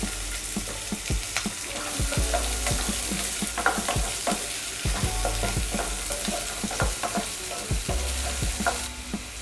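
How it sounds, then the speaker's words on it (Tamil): Chopped onions sizzle steadily in hot oil for chicken chukka, with frequent scraping and clinking of a spoon stirring the pan, close up and without talk. "வெங்காயம் நல்லா ப்ரௌன் கலர் மாறுற வரைக்கும் நல்லா வதக்கிக்கோங்க."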